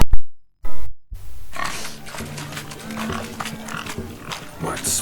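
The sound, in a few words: pig grunting in The Witcher 3 video game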